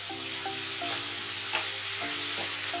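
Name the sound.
stirring turmeric and chili powder into frying fish curry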